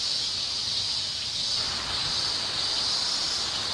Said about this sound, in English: In the peak of the summer heat, the humming of cicadas fills the air throughout the countryside.